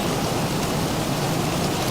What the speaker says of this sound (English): If we just lose this rain